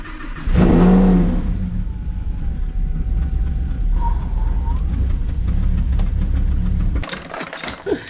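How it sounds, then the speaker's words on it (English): A Lamborghini Huracan engine with misfire trouble cranks and fires up loudly, then holds a rough, steady rev before cutting off, with faint voices near the end. "it sounds awful when you start the car up"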